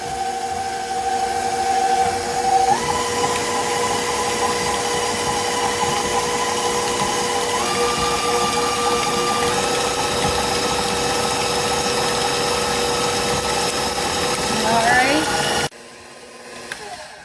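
Electric hand mixer whirring steadily while blending hot sweet potatoes with salted butter for a casserole, a close continuous motor hum that shifts pitch a few times as the speed changes, then stops near the end.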